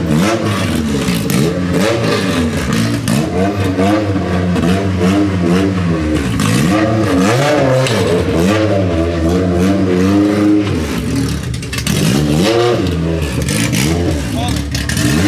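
A K-series-swapped Honda Civic engine revs loud and close in repeated rising and falling sweeps, mixed with people talking, as the car is driven onto a trailer.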